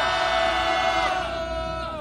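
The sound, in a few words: crowd cheering to welcome a speaker at a press conference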